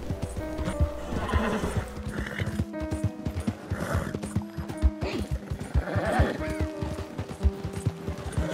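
A white horse gallops at full speed across open country in the Red Dead Redemption western video game, with rapid, steady hoofbeats and loud whinnies that repeat throughout.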